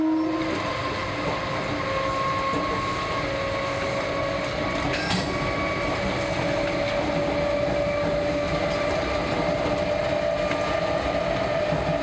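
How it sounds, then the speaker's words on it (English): An electric multiple unit train starts and rumbles steadily with a constant electric whine and hum, a continuous mechanical drone without any voices. "Take notch and start the train."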